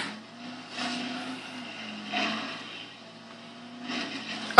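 A car driven in the video game Dead Island gives a thin, buzzy engine drone that rises and falls in pitch, with brief bursts of brighter noise recurring roughly every one and a half seconds.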